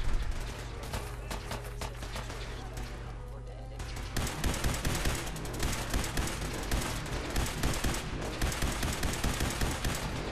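Dense, rapid gunfire from Fallout 4, with sustained automatic bursts that thin out briefly and then resume loud and continuous, alongside in-game commotion.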